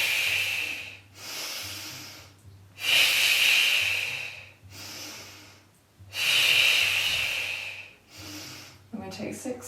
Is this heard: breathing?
yes